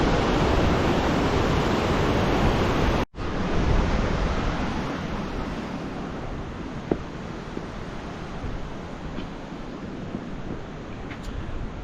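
Rushing river water flowing near Badrinath, a dense continuous roar with a brief dropout near the start, then a steady wash with faint ticks, no talk.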